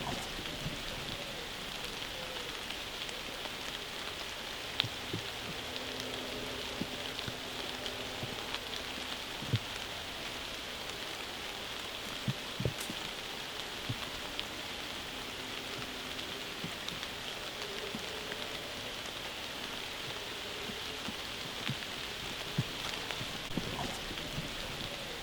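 Steady patter of rain falling on a tarp strung over a hammock camp, a dense even hiss with scattered heavier drops and no voices.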